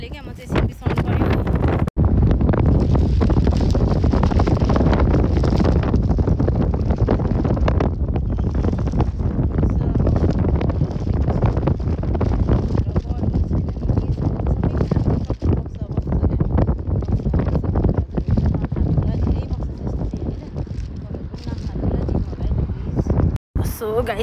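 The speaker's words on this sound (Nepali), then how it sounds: "हावा चलेको छ एकदमै" Strong wind blows outdoors on a hot day along a path, buffeting the microphone with a loud, continuous low rumble that barely lets up.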